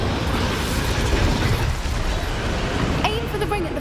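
The Incendio fire spell is cast in the video game Hogwarts Legacy, a loud, dense rushing burst of flame that roars continuously, with a short mechanical clank near the end and a voice briefly audible.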